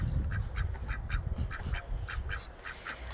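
Ducks on a vegetable garden homestead quack repeatedly at a fairly even, rapid pace, close and clear above a low rumbling outdoor background.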